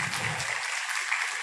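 Applause from the audience at a state legislative seminar in a hall, a dense, even wash of clapping that carries on steadily and moderately loud throughout.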